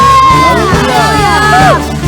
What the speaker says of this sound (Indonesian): Berikan tepuk tangan sorak-sorak bagi Tuhan.